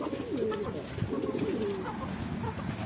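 Pigeons coo in a drying cage with soft, rolling, repeated calls that are fairly faint and close over low background noise.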